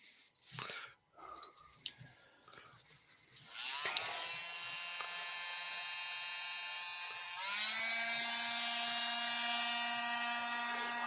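A lathe running at reduced speed gives a steady whining hum with bright harmonic tones, preceded by a few knocks and brief rustling, and the pitch shifts slightly partway through.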